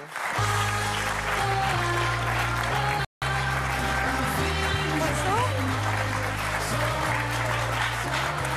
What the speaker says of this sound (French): Merci d'applaudir Mina et Gilles.